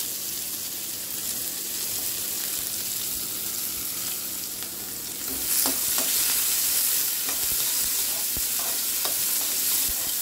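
Onions, carrots and other vegetables fry steadily in hot oil, a continuous close sizzle that swells partway through, with a few scraping stirs of a spatula toward the end.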